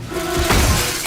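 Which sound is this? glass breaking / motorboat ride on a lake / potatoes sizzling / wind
glass breaking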